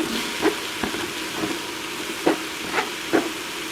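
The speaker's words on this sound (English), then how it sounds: "Okay, now I'll add my green zucchini." Green zucchini sautés in a Simfonio Simpot 8 Qt electric pressure cooker: a soft, steady sizzle with a few short clattering bursts spread through it, and no talk.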